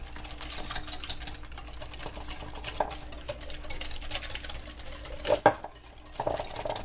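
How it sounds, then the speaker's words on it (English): Creamy coleslaw dressing is whisked in a bowl, giving a fast, steady rhythmic clicking and scraping of the whisk, close and moderately quiet, with a couple of louder knocks near the end. "We're going to whisk. Should be nice and creamy."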